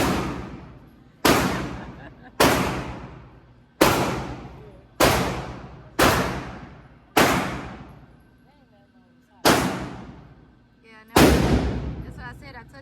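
A Glock 25 .380 pistol fires a string of about nine loud shots at a steady pace of roughly one per second, with one longer pause, and each crack trails off in a ringing echo.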